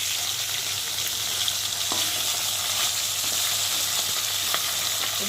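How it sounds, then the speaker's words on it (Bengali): Steady, dense crackling sizzle of tilapia fish pieces frying in hot oil, close by, with a few faint clicks of a utensil and no talking. "মাছ ভাজতে চলে এলাম"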